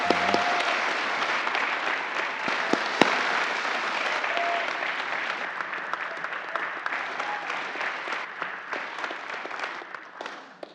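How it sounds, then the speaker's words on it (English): Audience applause for award-winning employees at a 2024 company annual meeting, a steady dense wash of clapping sustained throughout and gradually thinning toward the end, with no voices over it. "can you please stand up so we can give you a round of applause?"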